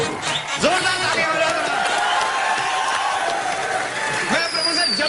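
A studio audience bursts into loud, sustained applause and cheering on an Indian comedy talk show, a dense crowd roar filling the whole stretch with music and voices mixed in.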